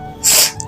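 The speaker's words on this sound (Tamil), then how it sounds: "தும்மி தும்மி ஷப்பாடே என்னால முடியலடா." A single short, sharp sneeze from someone suffering from a cold, close and loud, with no talking around it.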